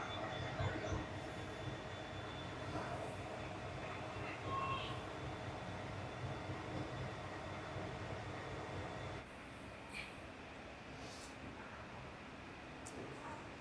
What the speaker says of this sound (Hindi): 4:09 पर हमारी ट्रेन का डिपार्चर हो रहा है